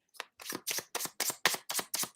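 Tarot cards are shuffled up close in quick bursts, eight or so crisp riffling flutters in a fast rhythm with short gaps, fairly soft and with no voices.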